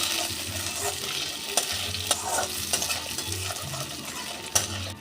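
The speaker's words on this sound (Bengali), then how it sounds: "এবার চালের মধ্যে দিয়ে দিচ্ছি আমি 1 মুঠ চিনে বাদাম, দিচ্ছি অল্প একটু কিশমিশ, দিচ্ছি 1 মুঠ মতন মটরশুঁটি। এও হালকা হাতে একটু ভেজে নেব।" Rice with peanuts, raisins and peas is fried in a pan, giving a soft continuous sizzle with repeated scraping and clinking stirring strokes, close and moderately quiet with no talking.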